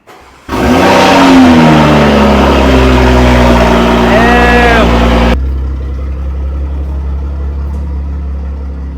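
A BMW M340i engine cranks and fires up with a loud, close flare of revs, settles into a high idle with a brief rising rev mid-way, then drops to a quieter steady idle.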